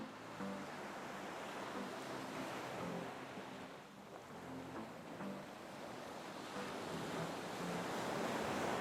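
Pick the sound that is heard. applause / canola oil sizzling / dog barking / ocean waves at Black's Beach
ocean waves at Black's Beach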